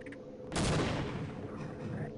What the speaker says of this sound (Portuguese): Vamos tacar uma granada lá do outro lado pra ele explodir.